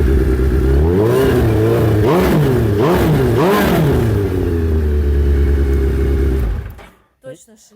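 A Suzuki Hayabusa motorcycle with straight-through exhausts revs loudly, its throaty exhaust note rising and falling in several surges before cutting off near the end.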